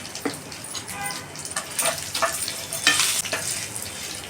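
Spices tempering in hot oil for drumstick leaf chutney, with fenugreek powder, turmeric and asafoetida, crackle and sizzle steadily up close, with sharper bursts of spitting as the pan is stirred.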